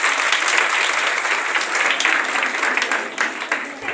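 A church congregation clapping hands for Jesus during a prayer service, loud dense clapping that rolls on steadily and then begins to thin near the end.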